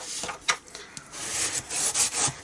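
Adhesive tape being burnished down onto a paper gift bag tab, heard as a series of close, dry rubbing strokes that start out sparse and irregular and then build into steadier, louder scrapes.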